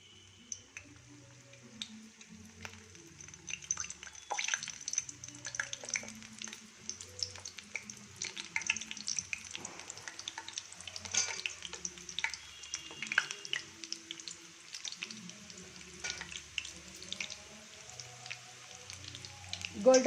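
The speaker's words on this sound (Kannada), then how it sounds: "ಇವಾಗ ಕರಿಯೋಣ." Food fries in hot oil in a pan, giving a steady, soft crackling sizzle with scattered pops and bubbling, faint and close, with occasional quiet voice sounds in the background.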